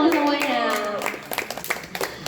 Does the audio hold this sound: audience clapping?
yes